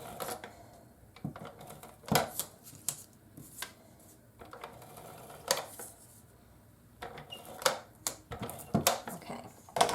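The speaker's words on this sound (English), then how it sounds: "I'm just using my advanced tape glider." Adhesive tape glider rolling tape onto cardstock for a Cricut flip card: a series of short, close clicks and rasping pulls at an irregular rhythm, fairly quiet, with no voices.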